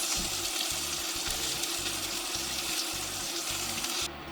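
Italian meatballs sizzle steadily in hot oil in a pan, a loud, continuous close-up crackle and hiss that runs unbroken before easing slightly at the very end.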